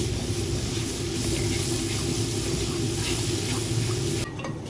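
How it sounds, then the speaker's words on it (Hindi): Onions frying in ghee in a pan until browned, a dense steady sizzle with stirring noises, close and continuous, easing slightly at the end. "प्याज को फ्राई कर लेंगे। प्याज को अच्छे से ब्राउन करेंगे हम।"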